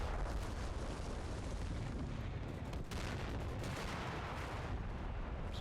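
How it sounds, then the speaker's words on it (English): Tank shell explosions and gunfire from the Combat Mission: Cold War war game make a continuous heavy rumble of booms and blasts, loud and dense throughout. "Is that just a tank shell?"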